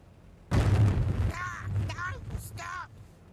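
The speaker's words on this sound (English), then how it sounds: "Bust out the Flamer, Firing cannon." A Warhammer 40,000 flamer weapon lets out a single loud whooshing roar that fades over about two seconds, with a voice talking over its tail.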